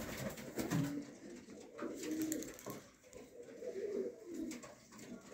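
Teddy pigeons in a breeding pair cooing softly in repeated low rolling coos, several calls close by with a quiet room background and no talking.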